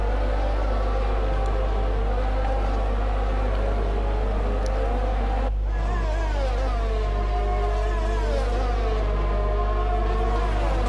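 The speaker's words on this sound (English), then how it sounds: "Just listening to these race car engines and the sounds they make." Formula One race car engines in the F1 20 video game at the Spanish Grand Prix, a continuous high-pitched whine with overlapping revs and pitch sweeps from several cars, over a steady low hum.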